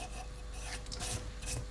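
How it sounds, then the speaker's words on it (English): A small Stanley router plane pares the flat bottom of a chiselled housing in wood, giving a close, steady rasping scrape in short repeated strokes, fairly quiet and with no talk. "This is a little Stanley router, made by Stanley's."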